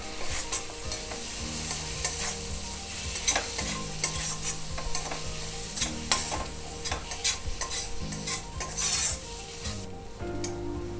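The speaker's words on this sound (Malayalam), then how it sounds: "ഇനി ഇതിലേക്ക് 1 ടേബിൾ സ്പൂൺ പുതിനയില അരിഞ്ഞതും കൂടെ ചേർക്കുക. എന്നിട്ട് നല്ലതായിട്ട് ഇളക്കുക." Spoon stirring chicken korma in a hot pan with chopped coriander and mint, steady sizzling and frying under repeated scraping strokes, close and continuous.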